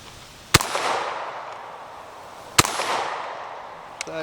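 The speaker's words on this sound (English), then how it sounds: "Fire one, make sure the bolt locks back. Fire another one, fire two," Two loud, sharp shots crack about two seconds apart from a TriStar Viper G2 28 gauge semi-automatic shotgun, each followed by a short echoing decay. A fainter metallic clack of the action comes near the end.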